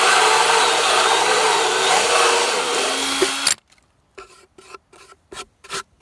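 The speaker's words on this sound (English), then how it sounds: "Just drill the hole." A hole saw grinds loudly and steadily through wood with a harsh rasping whir for several seconds, then stops, followed by short bursts of scraping and handling.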